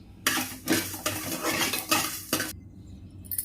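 Spices dry roasting in a pan over low heat, with a spoon scraping and stirring in several bursts of rattling metal-on-pan strokes, close and fairly quiet, then stopping.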